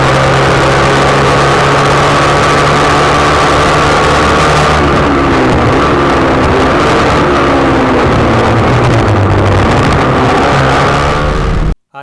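Racing motorcycles on a track, recorded onboard from a rider's bike at the start of a race; a loud, continuous engine roar with rising and falling pitch as the bike accelerates and shifts, cutting off abruptly at the end.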